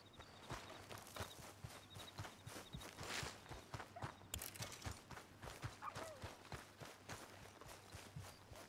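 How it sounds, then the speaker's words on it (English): Wild horses walk in Red Dead Redemption 2, their hooves clip-clopping in a steady, fairly quiet rhythm over soft ambient background throughout. "What are those wild horses there?"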